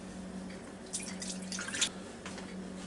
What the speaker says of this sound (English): I'm going to take a little bit more than a cup of this Swanson's beef broth here and put down inside this FOODi Deluxe